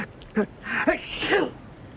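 A single sneeze bursts out, with faint voices murmuring just before and after it.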